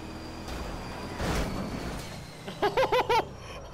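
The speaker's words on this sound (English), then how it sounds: "is honking his horn" A car horn honking in GTA 5 sounds as four short, evenly spaced tonal blasts near the end, following a stretch of rumbling background noise.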